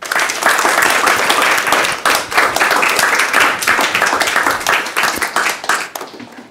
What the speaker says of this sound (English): Let's give a round of applause for Andi.